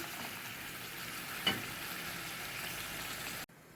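Meat sizzles steadily in a hot frying pan, a loud, even crackle with one brief clatter partway through before the sound cuts off abruptly.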